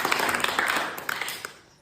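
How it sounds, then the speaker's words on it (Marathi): A short round of light clapping from a small group, several hands tapping unevenly for under two seconds before fading out, no voices. "त्याबद्दल त्याचं टाळ्या वाजवून कौतुक करायचं सगळ्यांनी"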